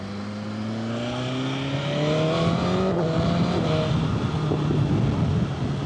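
An engine revs up under a motorcycle rider's control, with a rising, humming drone that climbs in pitch and grows louder, steady and close, with no talking.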